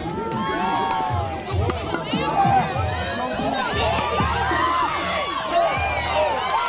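A big crowd at an 11U youth home run derby in Texas cheers and shouts, with children's voices rising in bursts over a busy babble that stays loud and close the whole time.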